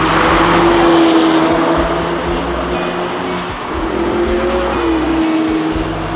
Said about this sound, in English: So as you can probably hear, we're at a racetrack